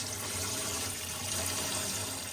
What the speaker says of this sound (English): This is just to show you that your water system's working and it's hot